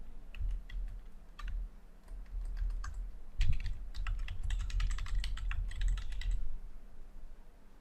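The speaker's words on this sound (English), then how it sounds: "Here I am typing" Rapid clicking keystrokes on a computer keyboard while working in MS Office, coming in irregular bursts with short pauses, close and fairly quiet.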